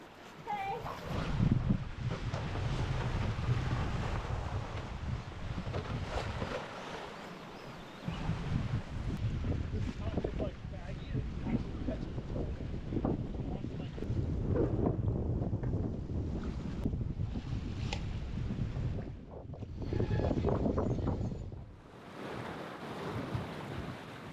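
Strong gusting wind buffeting the microphone on a sailboat crossing the Pacific at sea, roaring steadily with surges and dips, water rushing beneath, and a voice speaking intermittently.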